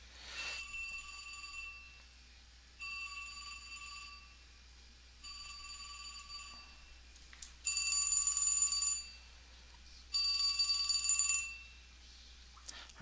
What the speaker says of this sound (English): phone's ringing here.